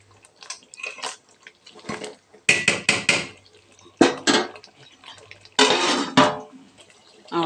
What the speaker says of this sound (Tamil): கொஞ்சம் நல்லா கிளறி விட்டுக்கலாம்.